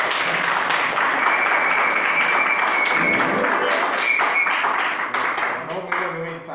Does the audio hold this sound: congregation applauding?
yes